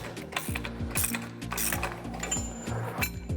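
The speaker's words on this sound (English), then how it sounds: "so I'll repeat torquing this side up a little bit" A ratcheting wrench torques the bolts of a STATS pipe connector, giving a quick series of close metallic ratchet clicks in short repeated bursts with no talking.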